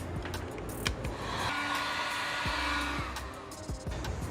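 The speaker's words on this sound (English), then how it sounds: "Last thing you got to do is just heat up the heat shrink." A heat gun blows a steady, close whooshing hiss while shrinking heat shrink tubing over a soldered fuel injector connector on a Honda S2000, with clicks and handling noises before and after.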